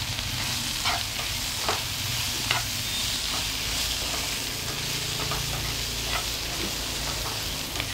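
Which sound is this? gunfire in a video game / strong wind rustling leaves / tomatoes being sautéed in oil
tomatoes being sautéed in oil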